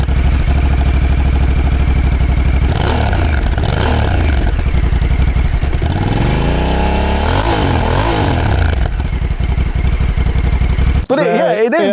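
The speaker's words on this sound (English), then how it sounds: "They describe it as a throbbing exhaust note" A Honda Africa Twin CRF1100L motorcycle engine throbs continuously and loudly up close, the exhaust note rising and falling through revs with a clattering mechanical edge before cutting off abruptly.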